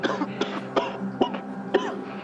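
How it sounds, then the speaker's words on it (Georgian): A woman coughs repeatedly and harshly from a cold, with about five sharp, close bursts spaced unevenly and raspy breaths and throat noises between them. "დედა, საშინლად ახველებ."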